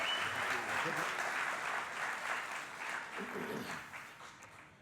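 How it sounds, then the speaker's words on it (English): A church congregation applauding warmly, a dense wash of clapping that holds steady and then gradually tapers off toward the end. "give him a big round of applause and welcome him to our church"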